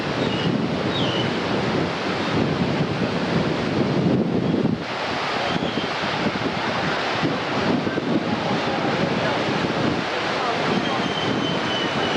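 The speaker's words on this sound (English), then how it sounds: "There's the ocean out in the background." Ocean waves and surf near the Princess Hotel in Acapulco roar continuously and loudly, blended with heavy wind buffeting the microphone throughout.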